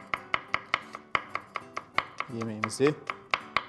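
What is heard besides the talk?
chopping garlic finely with a knife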